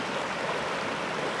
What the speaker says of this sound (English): We got a little bit of rapids here.